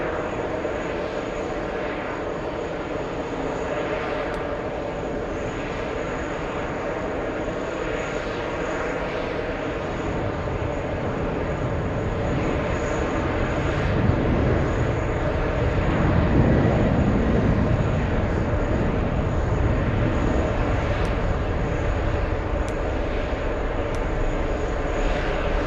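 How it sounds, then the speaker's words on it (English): A Delta Boeing 767 jet airliner bound for Dublin, its engines giving a steady, broad roar that swells toward the middle and stays loud to the end, with no talk over it. "A Delta 767, this one heading to Dublin as well."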